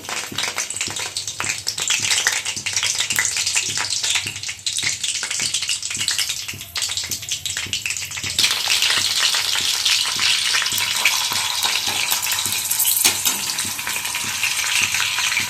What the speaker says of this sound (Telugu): పచ్చిమిర్చి వేసుకుందామండి. ఆయిల్ కాగింది.